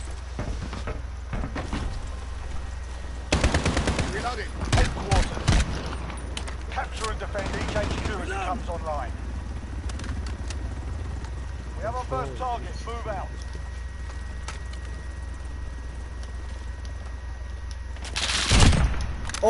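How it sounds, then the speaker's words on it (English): Sniper rifle shots in a first-person shooter, sounding as scattered sharp cracks with bursts of gunfire around 3.5 and 18.5 seconds, amid game ambience and a raised voice talking over it. "I'ma fuck these kids up with the sniper."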